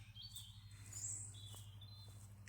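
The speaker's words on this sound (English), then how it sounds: "even though the birds are tweeting in the background" Birds tweet faintly in the distance at dawn in woodland, with a few thin, high chirps scattered over a low, steady hum.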